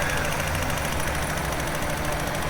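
A VW T4 Eurovan's 2.5L five-cylinder engine idles after repair of a broken intake valve spring, giving a steady, close, even mechanical hum with a light ticking texture and no talking.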